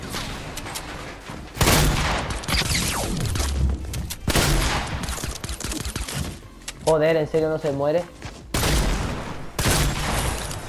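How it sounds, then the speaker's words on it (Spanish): Rapid gunfire bursts and shots crackle through a Fortnite match, loud and repeated in dense volleys, while a player talks excitedly over the action. "Le tuve que meter 1000 tiros."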